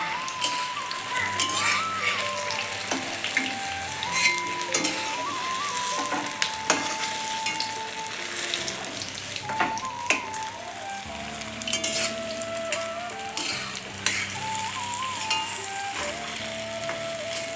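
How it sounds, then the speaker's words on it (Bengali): Paneer pieces fry lightly in oil in a pan, giving a steady, close sizzle that runs throughout with occasional stirring, under tonal background music. "পনিরটা হালকা করে ভেজে নিয়ে আমি তুলে নেব পনিরটা"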